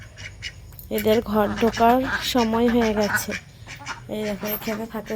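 Domestic ducks coming home quack in repeated nasal bursts, close and fairly loud, mixed with someone talking over them.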